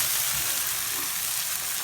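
Chopped garlic sizzles in a hot frying pan with fish being cooked, a continuous bright hiss of frying oil, close and steady without pauses.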